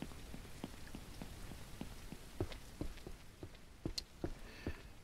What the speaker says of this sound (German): Und es regnet natürlich weiter.